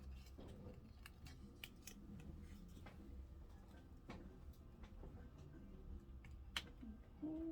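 Scissors snip small pieces in a quiet scattering of sharp, separate clicks at an uneven pace, close but soft over a low background hum.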